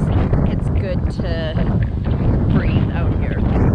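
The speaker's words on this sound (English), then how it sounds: "It is so windy" Strong outdoor wind buffets the microphone in a loud, continuous rumble, with voices faintly audible underneath.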